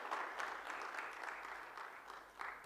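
Faint, distant applause rises from a conference audience at a Kolkata sports event, many hands patting in a steady, even stream for just over two seconds.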